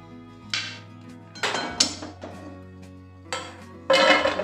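Dry-roasted cashews, almonds and walnuts are scraped from a pan onto a plate in a series of short metallic scrapes and clinks, several separate bursts close by in a quiet kitchen with no talking.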